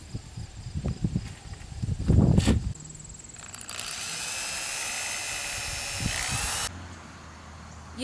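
A power drill drives screws into a 2x4 board for a cat scratching post, giving one sustained high whine of several seconds after some clattering handling noises, fairly close and moderately loud.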